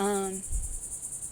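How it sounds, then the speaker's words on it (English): Cicadas buzz very close outdoors in a constant high, shrill drone. A brief low tonal sound sits over the start before the insect chorus continues alone. "Hope the cicadas aren't too loud. They're like very close"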